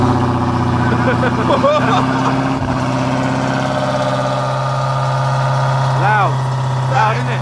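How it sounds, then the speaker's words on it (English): An 800bhp Dodge Hellcat V8 settles into a loud, steady, deep idle close by after starting, with a few brief voices speaking over the rumble. "So you can just do engine start."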